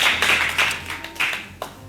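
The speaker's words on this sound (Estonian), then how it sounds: "See oli nüüd küll selline natukene kesine aplaus" Sparse, weak audience applause: a few scattered handclaps in short uneven bursts, fading out quickly.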